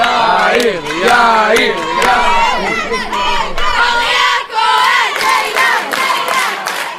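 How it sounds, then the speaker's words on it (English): A large crowd of family members and classmates cheers and shouts loudly for teenagers on stage at an international Bible competition in Israel, a dense, continuous roar of overlapping voices and yells. "The crowd is going wild."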